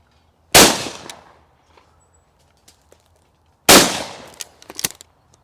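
Two loud, close blasts from a budget £150 shotgun firing Fiocchi cartridges at clay targets, a few seconds apart, each followed by a short decaying tail and faint clatter.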